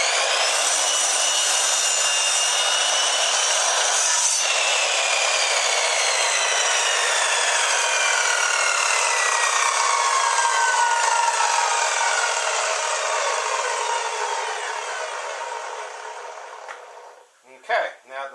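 A power saw cuts through wood in one long, loud, continuous whine that holds steady, then fades as the blade winds down, followed by a couple of brief knocks.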